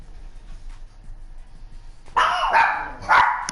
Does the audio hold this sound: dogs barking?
yes